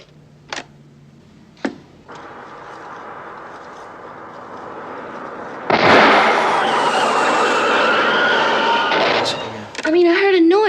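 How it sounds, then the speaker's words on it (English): Two sharp, separate cracks like gunshots ring out early, then a loud bang opens into a long rushing hiss of air escaping from a tire blowout, with a brief squeal near the end. "The first is a gunshot, and the second is a blowout"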